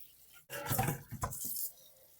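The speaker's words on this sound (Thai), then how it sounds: "เราก็ล้างออกด้วยน้ำสะอาด เจอน้ำร้อนเข้าไปนี่ไม่เหลือครับ" Catfish rinsed with clean water in a kitchen: a quiet, close splash and pour of water lasting about a second, then fading out, with no talk.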